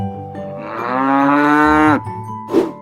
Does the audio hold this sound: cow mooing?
yes